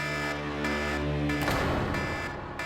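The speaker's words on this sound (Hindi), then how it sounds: "ये अलार्म सुन रहे हो ना, ये उनके अंदर आते ही बजेगा" A buzzing electronic alarm rings steadily indoors at a crime scene, a harmonic-rich tone that holds for about a second and a half, then breaks into a harsher, noisier wail that continues loudly to the end.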